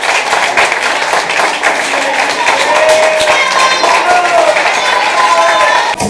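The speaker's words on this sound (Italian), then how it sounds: "Allora io direi di iniziare la serata proprio con un applauso da parte di tutti" Audience applause at a live evening show, with dense clapping sustained steadily throughout and a crowd murmur underneath, loud and continuous.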